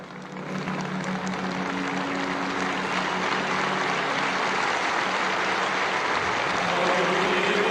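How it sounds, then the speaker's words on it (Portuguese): A large crowd applauds steadily outside St. Peter's Basilica as Pope Francis's coffin arrives for the wake, a dense continuous wash of clapping that holds loud for the whole stretch with no voices standing out. "uma multidão aguardava o começo do velório e recebeu o Santo Padre com aplausos"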